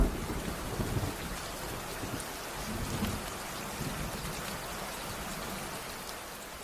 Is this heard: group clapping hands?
no